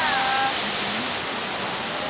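Sea surf at a well-known surfing beach on the Great Ocean Road near the Twelve Apostles in Victoria, Australia, a loud continuous roar of breaking waves filling the short stretch, with no distinct individual crashes.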